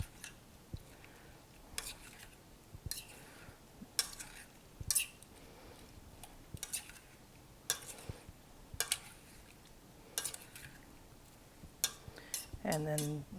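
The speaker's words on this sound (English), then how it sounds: "And then give them a stir." Salad dressing ingredients for a German-style dressing stirred in a bowl, a series of quiet, irregular clinks and scrapes of a utensil against the dish, close but faint, ending in a brief clatter.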